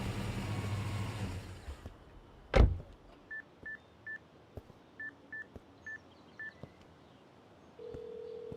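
A telephone is dialed in a Hollywood action film: after a sharp knock, a string of about seven short touch-tone beeps sounds in even rhythm, followed by a steady tone, with faint car engine hum underneath.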